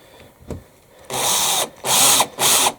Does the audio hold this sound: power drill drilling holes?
yes